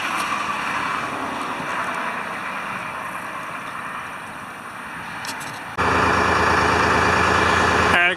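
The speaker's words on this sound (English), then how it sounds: "I got the engine running so we can build up some air pressure." A 1976 International fire truck engine idles with a steady low rumble, jumping abruptly louder and rougher partway through as it keeps running close by.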